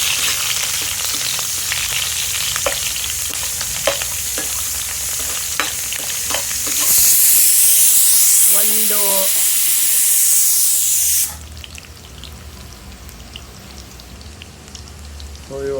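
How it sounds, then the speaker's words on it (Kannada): Garlic fries in hot oil in a pan, a loud close crackling sizzle with stirring taps, swelling into a brighter hiss midway and then settling to a quieter bubbling. "ಇವಾಗ ಇದ್ರ ಜೊತೆ ಬೆಳ್ಳುಳ್ಳಿ, ಹಾಕ್ಕೊಂಡು ಲೈಟಾಗೆ ಫ್ರೈ ಮಾಡ್ಕೊಳ್ಳಿ."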